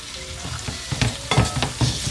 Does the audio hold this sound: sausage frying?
yes